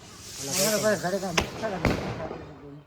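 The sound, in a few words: skyshot fireworks bursting at Diwali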